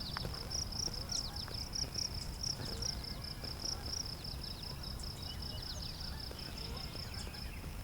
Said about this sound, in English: Lots of crickets here too.